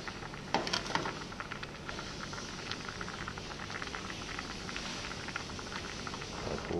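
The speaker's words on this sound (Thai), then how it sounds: "น้ำเดือดแล้วนะครับ" Water bubbles and pops in a steady, quiet boil in a pot, close by, with no voices, as a base for Thai sour crab curry.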